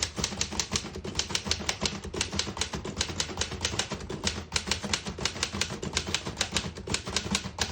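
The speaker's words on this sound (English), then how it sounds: "I'll type a sentence on the next line." A 1940 Remington Model 5 portable typewriter clatters through a sentence in a steady, quick rhythm of sharp key strikes, close and clear, with no talk.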